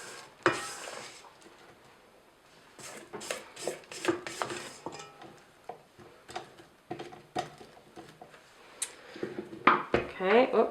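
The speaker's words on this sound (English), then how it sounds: "after each addition, I'm going to stop and scrape the bowl" A spatula scraping a mixing bowl of red velvet cupcake batter, giving irregular scrapes, knocks and light clinks that come and go in uneven bursts at close range.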